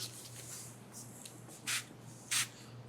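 Waterless wash cleaner is sprayed onto a truck tailgate in two short, hissing bursts from a trigger bottle, faint against a quiet background hum.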